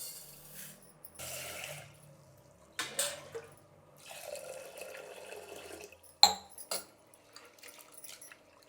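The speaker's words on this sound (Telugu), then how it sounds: "ఇప్పుడు ఈ పప్పుని బాగా కడుక్కునేద్దాము ఒకసారి" Lentils being washed in water for dal make a few quiet splashes and swishes, with trickling and dripping in short bursts and a brief clink near the end.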